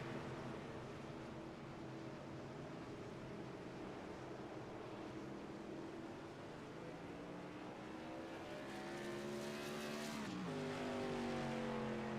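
Modified race cars from the TRS Tour Modified Series at Gateway roaring in a pack during a multi-car crash off turn two, with a loud sustained engine drone that swells and shifts pitch near the end.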